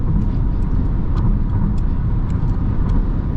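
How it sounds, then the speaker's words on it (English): Steady road noise from traffic on a North American highway with a semi truck nearby, a constant broad engine and tire roar at even loudness with a few faint higher ticks, no voices. "We have a semi truck"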